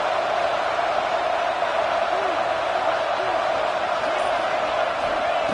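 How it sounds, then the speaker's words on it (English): A stadium crowd roars steadily at a football game, a dense unbroken wash of noise under a commentator talking throughout. "listen to this crowd noise. This stadium is vibrating."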